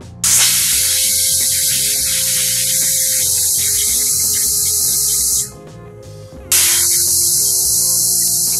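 Loud continuous hiss of steam from a pressure cooker whistle while black chickpeas and potatoes boil on a high gas flame. It stops briefly, then resumes just as loud.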